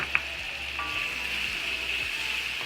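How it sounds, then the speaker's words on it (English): Garlic and red onion sizzle steadily in hot oil in a wok, a continuous close hiss with one brief clink near the start and no talking. "I got the garlic going. I'm going to hurry up, throw in some red onion because I don't want the garlic to burn"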